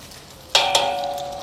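A small piece of Korean twisted doughnut dough is dropped into overheated oil, and a sudden loud sizzle starts with a second burst just after, then settles into a steady bright hiss.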